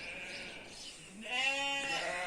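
Sheep bleat on a village farm, a single clear harmonic-rich bleat rising up fairly close after a quieter stretch of outdoor ambience.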